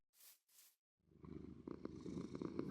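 Cat purring in a video game: after two soft breathy puffs and a moment of silence, a close, steady, rumbling purr starts and continues, gradually growing louder.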